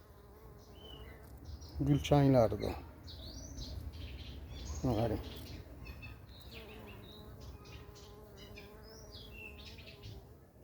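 Honey bees buzzing around garden flowers, a low, continuous hum with birds chirping in the background, while a person speaks briefly twice.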